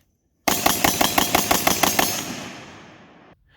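Rapid-fire gunfire from a 7.5-inch AR15 rifle, about a dozen loud shots in a fast, even string lasting under two seconds, followed by a fading echo tail.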